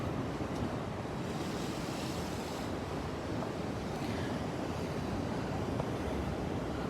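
Ocean waves crash and wash continuously against a coastal rock shelf along Sydney cliffs in early morning, a dense, steady roar of surf with wind buffeting the microphone throughout and no voices.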